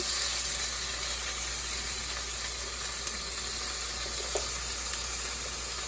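Salmon fillets in Tuscan butter sautéing in a pan, giving a steady, close sizzle and crackle with a faint hiss throughout and no talk.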